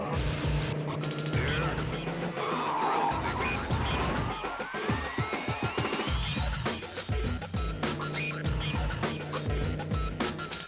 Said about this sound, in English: why does that Viper sound really good?